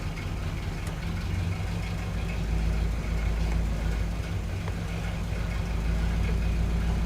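A 1986 Pontiac Firebird idles with a steady, low rumbling drone that holds even and unbroken from start to finish, close and fairly loud with no talk over it.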